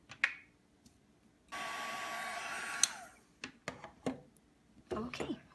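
Heat tool blowing for about a second and a half, a loud steady whoosh, to set embossing powder on a wooden bangle, with brief clicks and handling sounds around it.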